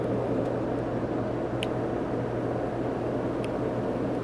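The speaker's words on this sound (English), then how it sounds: "It does have good air conditioning." A camper's air conditioner runs overhead with a steady, dense whooshing hum and a low drone underneath, constant and fairly loud, with no talk.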